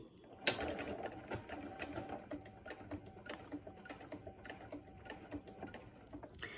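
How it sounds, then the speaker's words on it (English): A sewing machine runs slowly along a quarter-inch seam while piecing quilt blocks, a faint, steady patter of stitches after a sharp click at the start. "We're going to start sewing our 1/4 inch seam allowance."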